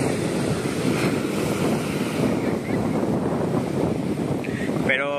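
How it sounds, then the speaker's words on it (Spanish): Strong spring wind at San Miguelito beach in Puerto Morelos roars steadily into the microphone, a dense unbroken rush with surf mixed in, loud throughout and without any voice. "Espero que se escuche porque hay mucho viento."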